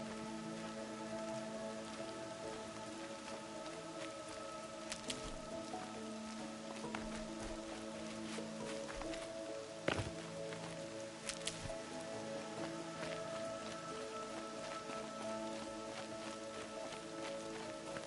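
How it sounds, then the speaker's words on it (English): Steady rain pattering on surfaces in the video game Horizon Zero Dawn, a dense continuous hiss with scattered louder drops and a sharp knock near the middle, no talking. "More rain. My boots will get damp."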